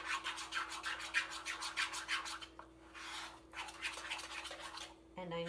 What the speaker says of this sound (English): I'm stirring it up.